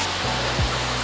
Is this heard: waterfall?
yes